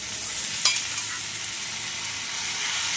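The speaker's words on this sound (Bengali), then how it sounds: "বাঁধাকপিটা দিয়ে এটাকে ভালো করে এবার কষে নেব।" Cabbage, boiled beforehand, being stir-fried with potatoes, tomato and ginger paste in a pan, giving a steady soft sizzle with a single brief scrape or clink near the start.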